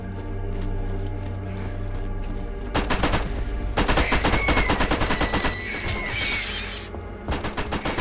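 Turret fire in Borderlands: rapid machine-gun bursts rattle out in quick strings, starting after a low steady hum and coming in several loud volleys with brief gaps between.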